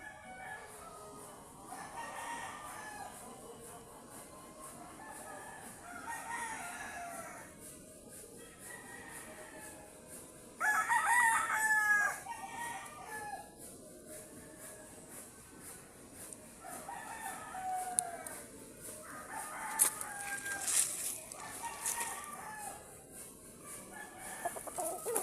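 Chickens cluck intermittently amid faint outdoor ambience, with a loud rooster crow partway through and more scattered clucking and calls afterward.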